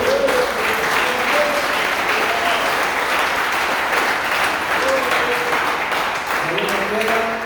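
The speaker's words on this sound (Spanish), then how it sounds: "Demos un aplauso al Señor." A church congregation claps in sustained, loud applause, with voices calling out and cheering over the clapping throughout.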